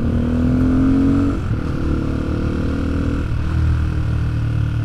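A Fantic 125 motorcycle's exhaust drones steadily while riding, rising slightly and then easing back as the bike slows through a small village, close and continuous with no speech.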